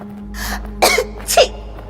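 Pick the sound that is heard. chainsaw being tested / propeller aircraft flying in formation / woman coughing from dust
woman coughing from dust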